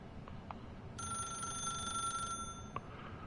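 A telephone in The Stanley Parable rings in one sustained electronic burst with a bright, steady tone. It sits over a quiet game background, and a few soft clicks come before and after it.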